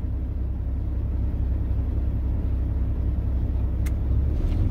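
A Kenworth truck's diesel engine idles steadily during a manual DPF regeneration, a constant low rumble held at even loudness, with one brief sharp tick near the end.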